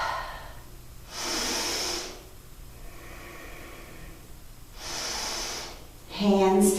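Two long audible breaths in a yoga session, each a hissing inhale or exhale lasting about a second, followed by a short voiced sound at the end over a quiet room.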